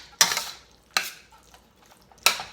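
Beef and cauliflower stirred in a pan over low heat, with three sharp utensil scrapes against the pan spaced apart and quiet gaps between them.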